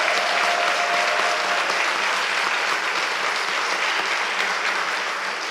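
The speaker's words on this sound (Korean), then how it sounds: "부활하신 주님께 모든 감사와 영광의 박수 올려드립니다." A congregation at an Easter service in a Daejeon church bursts into sustained, dense applause that fills the hall, steady and loud throughout before easing slightly at the end.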